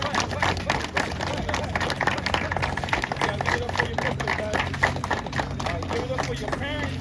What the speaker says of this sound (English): Alright, everybody, clap it up for your coach.